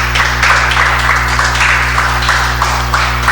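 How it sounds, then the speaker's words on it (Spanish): A church congregation applauds the Lord in steady rhythmic clapping, fairly loud and close over a constant low hum. "Dale un aplauso al Señor,"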